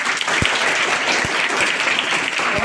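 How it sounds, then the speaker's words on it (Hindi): A crowd claps loudly and steadily during a Hindi poetry recitation event, a short dense burst of applause with a few sharp thumps mixed in. "जोरदार एक बार ताली बजाएं।"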